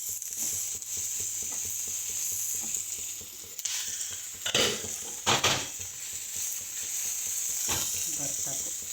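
Spices and vegetables including onions and tomatoes sizzling in a hot pan, a continuous bright hiss with a few louder stirring scrapes and clanks of a utensil against the pan, close by.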